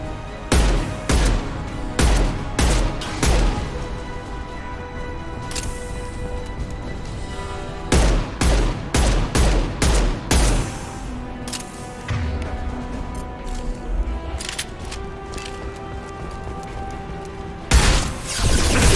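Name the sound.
heavy gunfire in the video game Mass Effect 2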